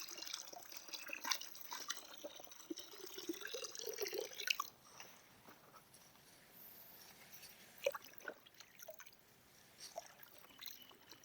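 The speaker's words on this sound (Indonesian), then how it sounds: "Ini airnya saya buang aja deh," Old water being poured out and drained while caring for a wilting moth orchid, a soft trickling and dripping close by, steady at first and then thinning into scattered drips.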